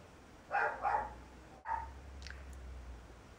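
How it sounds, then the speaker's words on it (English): A dog barks a few times in a room, two or three distinct woofs close together, followed by a softer single bark, moderately near with a quiet background. "My dog is barking."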